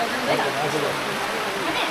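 Rain pours down in the Sailung hills while people shelter at a small shop, a steady, close, dense hiss with faint voices mixed in.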